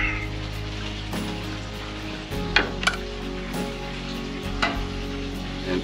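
Oil sizzles steadily on a Blackstone griddle heated to about 600 degrees, a continuous close frying hiss with a few sharper crackles and spatters breaking through.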